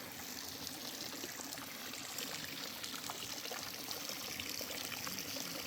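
A small decorative water fountain in a garden room of a tropical botanical garden in Kauai trickles and splashes steadily, a soft continuous patter of falling water with no voices.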